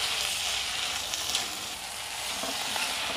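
Two chopped tomatoes sauté with ground masala in a pan for prawn biriyani, giving a continuous close hiss of frying with faint stirring and no voices.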